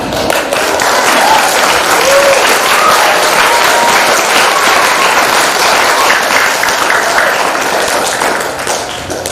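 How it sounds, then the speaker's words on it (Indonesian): Loud, sustained audience clapping at the close of a Quran memorization and quiz competition on National Santri Day, continuous dense applause from a crowd with no talk over it. "Tepuk tangan."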